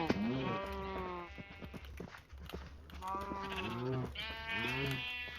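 Sheep in a blocky survival building game bleat repeatedly, wavering calls rising and falling in a steady series, fairly close over a low continuous background hum.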